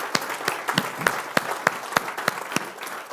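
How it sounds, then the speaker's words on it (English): A small audience applauds for Andy at an event, a soft bed of scattered clapping with a few louder, regular claps standing out on top, moderately close and alone for about three seconds. "Big round of applause for Andy."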